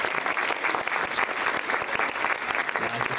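An awards ceremony crowd claps throughout, a loud, dense and even burst of applause with no voices standing out.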